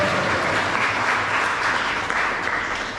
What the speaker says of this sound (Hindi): आप इन सब के लिए जोर से ताली बजानी चाहिए।